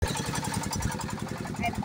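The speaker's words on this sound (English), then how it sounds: "Very noisy with the generator on the video." A generator engine runs outdoors at a house construction site, making a steady, rough, pulsing drone that fills the whole stretch at close range.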